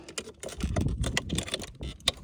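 An electric fence charger on a goat grazing setup ticks with a series of sharp, irregular clicks over a low background rumble, fairly close and moderately loud, with no talking.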